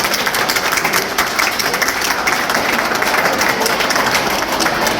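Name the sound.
audience applause welcoming a guest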